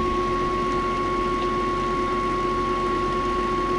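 A pulse motor generator machine spinning steadily at about 2750 RPM, a constant loud hum with a fixed electrical whine, unchanging throughout and with no voices.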